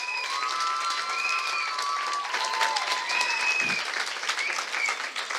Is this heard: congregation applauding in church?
yes